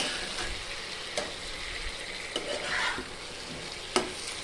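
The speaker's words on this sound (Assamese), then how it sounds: "এতিয়া মই ভালদৰে লৰাই দিম।" Chicken curry with potatoes stirred in a pan over sizzling oil, a soft continuous frying hiss with occasional scraping knocks of the spoon against the pan.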